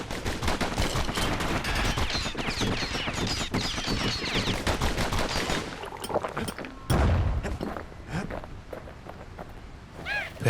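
Enemies in the video game Bastion fire at the player in dense, rapid volleys, with scattered thuds and footsteps and a louder impact partway through, all fairly loud and close.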